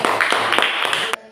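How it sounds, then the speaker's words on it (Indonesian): Students in a classroom clap briefly for a classmate, a short, close burst of hand claps that cuts off abruptly. "Oke, tepuk tangan untuk"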